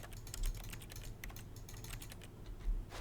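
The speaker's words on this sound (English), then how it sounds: "It sounds like I'm typing" Steady, rapid keyboard clatter in The Stanley Parable video game, a continuous stream of soft key taps close by over a low background hum, with no talking.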